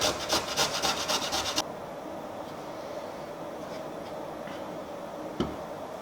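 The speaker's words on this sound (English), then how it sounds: "I'm just gonna grind this down." Seasoning for a root beer BBQ sauce is ground by hand: a quick run of rhythmic, rasping strokes up close, then the scraping stops and only faint background noise and a single soft knock remain.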